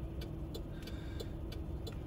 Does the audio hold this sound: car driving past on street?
yes